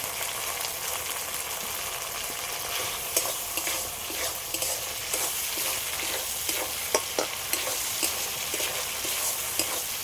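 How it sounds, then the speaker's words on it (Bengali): Spice masala with red chilli powder being fried for a Bengali ghugni with meat, a low, steady sizzle punctuated by sharp spatula scrapes and taps that grow more frequent toward the end. "মশলাটা একটু ভালো করে কষে নেব"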